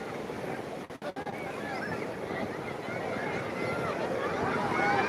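Sea waves roll in at crowded Digha beach as a broad, hissing wash of surf that builds louder toward the end. Faint background voices are heard under the surf.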